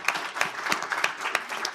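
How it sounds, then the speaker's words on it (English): Audience applause for speakers at the end of a talk session on online speech, sparse and fairly quiet, with distinct rhythmic claps about three per second from a small crowd. "Let's do another round of applause for all of our wonderful speakers."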